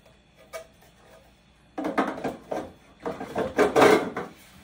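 A large black translucent plastic makeup organizer drawer slides open and shut, producing clustered scraping rattles and knocks. A faint click comes first, then a louder run of sliding and bumping up close, with no talk.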